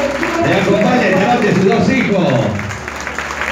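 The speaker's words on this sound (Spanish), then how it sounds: "Fuerte de los aplausos nuevamente para Ramoncito." Crowd applause at Ramón's 60th birthday party in Añelo, Neuquén, a dense steady clatter of many hands with someone talking loudly over it, easing off slightly near the end.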